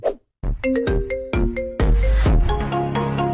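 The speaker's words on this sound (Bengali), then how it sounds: "আমার নামের রিংটোনটি আপনারা শুনলেন" A custom smartphone ringtone made from a person's name plays loud and close: a bright synthetic chime melody of repeated stepped notes that swells into sustained layered tones, with no other sound around it.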